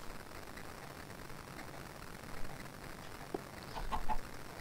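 Chickens clucking faintly outdoors in a video game, soft scattered clucks over a steady background hiss with no talking.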